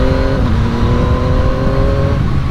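A 2022 Yamaha MT-09 motorcycle engine held at full throttle in low power mode with a slipping clutch, a loud, sustained droning roar with steady pitch under strong wind rush, heard up close while riding.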